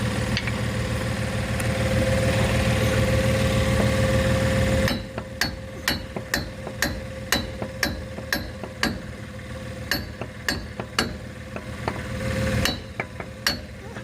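A hammer strikes metal on a Jeep Sahara Unlimited in a steady series of sharp, loud blows, following several seconds of continuous droning noise.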